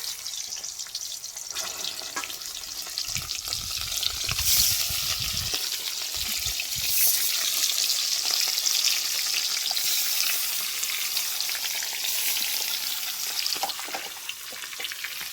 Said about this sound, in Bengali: তেল দিয়ে দেবো মাছ ভাজার জন্য